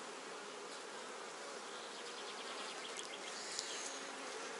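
Honey bees buzz steadily around queen cells in a hive, a dense, continuous close-up drone with faint, quiet, even texture throughout.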